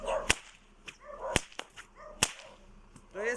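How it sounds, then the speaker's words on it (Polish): Several sharp cracks from a leather whip, spaced irregularly across a few seconds, loud and close with short quiet gaps between strikes in a four-corners style routine. "nawet four corners mogą wyjść tym batem"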